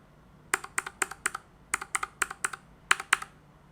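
Close-up keystrokes on a NuPhy Air 75 mechanical keyboard with blue switches, sharp clicky strikes in quick bursts of three to four with short pauses between, crisp and alone.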